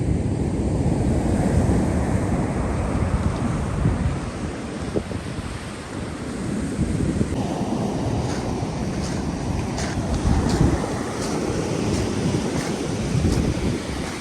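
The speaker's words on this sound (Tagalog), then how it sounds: "Grabe ang laki ng mga alon dito." Big ocean waves surge and break continuously along New Zealand's west coast, a loud, steady roar of surf mixed with strong wind buffeting the microphone, with no talking.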